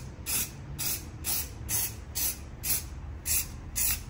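A car emblem on a Hyundai i30 N is sprayed black with an aerosol paint can in eight short, evenly spaced hissing bursts, close and loud, with no talking.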